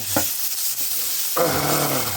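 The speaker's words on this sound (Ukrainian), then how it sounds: "Смажно чесночок. Смачно пахне." Garlic frying in a pan, a quiet stir and scrape at first, then a sudden loud steady sizzle as it hits the hot oil, close and alone.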